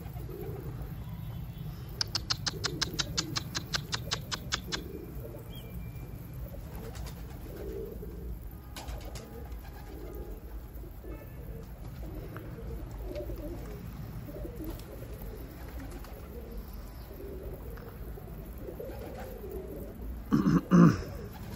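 Tumbler pigeons coo softly through a long outdoor stretch, with a burst of rapid wing claps as birds take off early on and another sharp flurry of flapping near the end, plus a brief throat-clearing.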